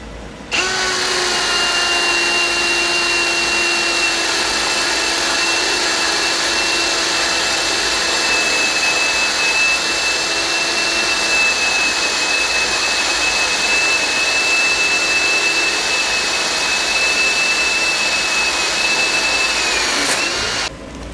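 A DCA ADJZ03-13EM cordless hammer drill runs continuously at high speed with a steady whine, loud and close, stopping abruptly at the end.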